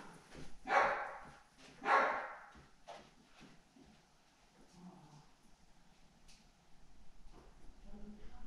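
A dog gives two sharp barks close by, followed by quieter shuffling and faint low background noise.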